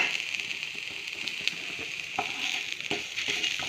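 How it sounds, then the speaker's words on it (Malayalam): Grated coconut, dried shrimp and onion fry in a hot pan for a shrimp chutney, giving a soft, steady sizzle with occasional light stirring scrapes and ticks. "നമുക്ക് എടുത്ത് വെച്ച തേങ്ങയും ഉണക്കച്ചെമ്മീനും ഉള്ളി ഇതെല്ലാം ഇതിൽ ഇട്ട് കൊടുത്തിട്ട് ഒന്ന് വറുത്തെടുക്കാം"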